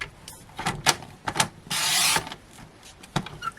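A paper trimmer slices through card during papercraft work: a few soft clicks and taps, then one sustained rasping cut lasting about half a second, followed by more light handling noises.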